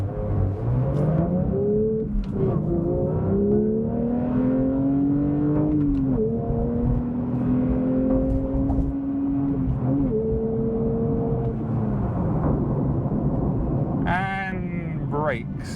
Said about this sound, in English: Let's give ourselves a little launch.